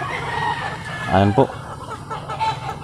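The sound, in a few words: gamecock roosters crowing and clucking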